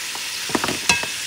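Chopped onions go into a pan of hot oil with garlic for a Brazilian feijoada, giving a brief soft sizzle with a few stirring scrapes, close by and fairly faint, with no talking.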